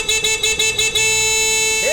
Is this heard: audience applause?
no